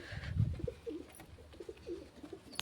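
Pigeons in a home loft coo softly while pecking at grain, a few low, throaty murmurs near and quiet at first, then scattered fainter coos and rustling.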